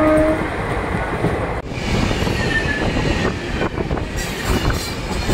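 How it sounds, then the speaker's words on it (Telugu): Heard from aboard an express near Secunderabad, a train rushes past alongside with a short horn blast at the start, followed by a loud, continuous rumble and rail clatter. "మన పక్కన ఉంటుంది కదండి ట్రైన్,"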